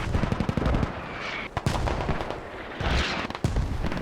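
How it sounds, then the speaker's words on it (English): Mortar shells landing in the game Squad, a run of sharp, booming impacts that come in clusters, some loud and close, others farther off. "Possibly gets mortared as the mortar lands right next by him."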